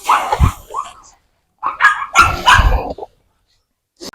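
A dog barks close by in a few sharp bursts, with short pauses between groups of barks and one faint yip at the end.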